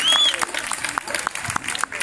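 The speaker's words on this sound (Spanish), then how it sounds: "Noelia, un fuerte aplauso, que se han salido aquí." An audience claps after a flamenco alegrías performance, a fairly sparse, uneven patter of hand claps with voices talking over it.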